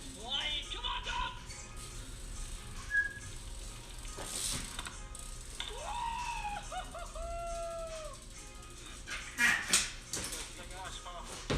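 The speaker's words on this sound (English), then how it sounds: "Come on, dog!" A dog yelps and whimpers in a few brief bursts during outdoor BMX riding, with people talking and shouting over the scene and the barks partly mixed under the voices.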